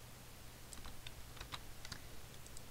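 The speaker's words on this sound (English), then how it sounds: "If I hold down Shift on my keyboard" Computer keyboard keys click in a quick irregular run of light taps while someone works in CorelDraw, close and fairly quiet, with no talking.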